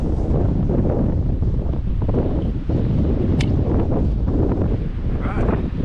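Strong wind roars and buffets the microphone continuously, loud and rumbling, with brief gusty surges throughout.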